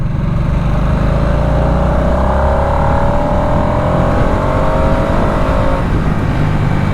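A 2024 Harley-Davidson Nightster 975 motorcycle engine pulls hard and loud through a sustained acceleration, its rising tone climbing steadily over continuous wind and road roar.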